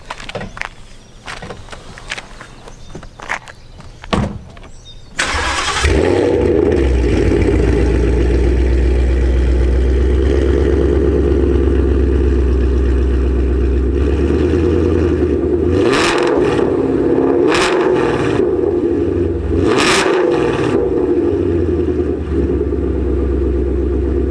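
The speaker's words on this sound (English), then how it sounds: "You want to start it up and we'll hear this thing, give it a couple revs. It is loud." A tuned 2019 Ford Mustang GT with high-flow cats and an exhaust left wide open cranks and fires into a loud, close V8 idle, then gets several sharp throttle blips over the steady rumble.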